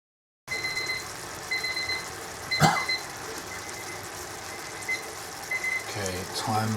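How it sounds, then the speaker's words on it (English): A kitchen timer beeps in repeated high electronic pulses while chicken tikka is being cooked. There is a clatter partway through and some handling noise near the end. "timer is finished"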